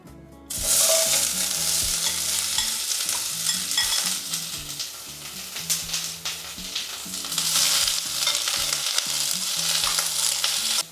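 Chopped onions frying in a pan after green chillies, a steady loud sizzle with a long run of spatula scrapes and stirring knocks throughout, no one talking.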